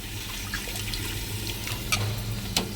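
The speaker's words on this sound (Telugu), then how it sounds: "కొంచెం వాటర్ అనేది పోసుకొని మళ్ళీ వేస్తుంది." Water poured into thick tamarind pulp in a kitchen, a soft steady trickle of liquid with faint splashes and a couple of brief clinks near the end, no talking.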